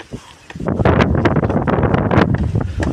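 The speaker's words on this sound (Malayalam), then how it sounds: "ഇതാണ് അവസ്ഥ ഭയങ്കര കാറ്റും മഴയാണ്" Loud wind buffets the microphone in close, rough gusts with a steady rushing roar; no rain patter stands out beneath it.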